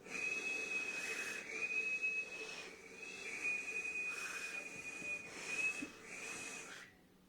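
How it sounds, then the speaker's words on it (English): A thin, steady high-pitched whistle held in several long stretches with brief breaks, fairly faint over a hissy background, then stopping. "I'm actually starting to get some sound with the whistle."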